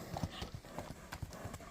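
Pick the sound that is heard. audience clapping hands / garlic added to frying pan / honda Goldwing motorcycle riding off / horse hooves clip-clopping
horse hooves clip-clopping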